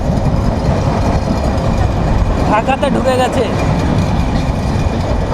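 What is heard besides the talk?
Kolkata to Dhaka passenger train running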